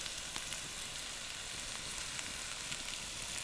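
Meat frying in a small kazan cauldron over a campfire outdoors, a steady close sizzle and spatter with faint pops, no talking.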